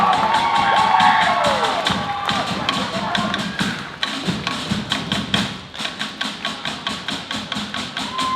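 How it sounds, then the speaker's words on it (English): Loud, sustained applause and cheering from a recital audience at an end-of-year dance production, first a dense wash of clapping and voices, then settling into steady rhythmic unison claps that carry on to the end. "For the round of applause, ladies and gentlemen, for Taualuga Production."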